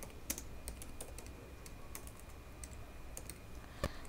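Form code is typed on a computer keyboard in quiet, irregular bursts of soft clicks, with a sharper key strike near the end.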